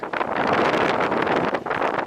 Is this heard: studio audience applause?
no